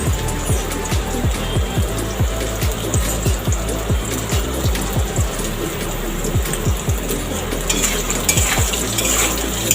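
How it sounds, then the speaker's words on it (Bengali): Potatoes fry in a pan with a loud, steady sizzle and repeated scraping stir strokes, close up with no voices. "আমার আলুটা লাল লাল করে ভাজা হয়ে গেছে"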